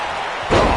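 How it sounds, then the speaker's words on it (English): A wrestler slammed hard onto the mat in a PS4 wrestling video game, a single heavy thud landing halfway through and ringing out loud over steady arena crowd noise. "Mat slam with some attitude."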